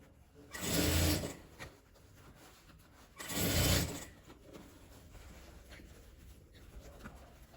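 A sewing machine stitching a denim and cotton patchwork pouch runs in two short bursts of close, buzzing whir, each about a second long, separated by quieter handling sounds.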